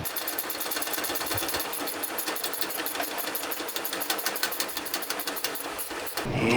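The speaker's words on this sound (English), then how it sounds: "just gonna take a ratcheting wrench, crank this all the way on" A ratcheting wrench tightens a high-pressure power steering hose fitting with a fast, even run of sharp clicks lasting several seconds, close and clear, ending in a short dull knock.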